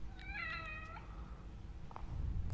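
A kitten meows once, soft and distant, within The Evil Within's dim ambience, followed by a faint low rumble.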